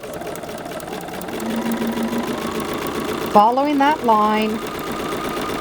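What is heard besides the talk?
sewing machine stitching quilt block fabric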